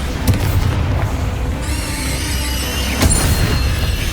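A Bombarda spell blast in Hogwarts Legacy, a loud booming explosion within dense, rumbling combat noise, with a sharp burst near the start and another thump later.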